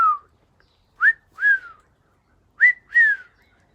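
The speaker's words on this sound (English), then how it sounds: "You're not going to do your wolf whistle." A pet bird whistles in two pairs of rising-then-falling wolf whistles, clear and close, with a short single note just before the first pair.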